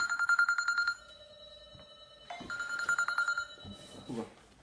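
A telephone ringing tone repeats in warbling, evenly spaced bursts, clear and mid-loud, with a few faint voices in the pauses.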